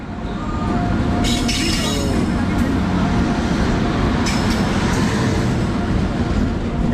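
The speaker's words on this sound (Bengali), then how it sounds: "আমাদের রানীক্ষেত এক্সপ্রেস ট্রেন আসতেছে" The Ranikhet Express train rumbles loudly and continuously into a station, with occasional high-pitched wheel squeals and voices faintly in the mix.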